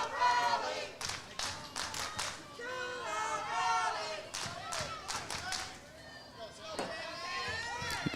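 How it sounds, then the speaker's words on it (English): The Texas crowd at a youth baseball championship game chants a two-out rally with sharp rhythmic claps, heard faintly from a distance while a commentator talks over it. "You can hear the Texas crowd chanting 2-out rally."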